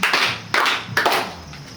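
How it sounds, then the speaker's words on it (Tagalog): Children clap in a classroom for Miss Irene, three distinct hand-clap bursts in an even rhythm, each sharp and close, with no talking. "Bigyan ng palakpak si Miss Irene. 3 palakpak."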